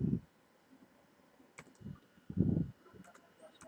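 A computer keyboard being typed on while a formula is entered, with a few soft, scattered key clicks and light thumps, quiet and close against a faint hum.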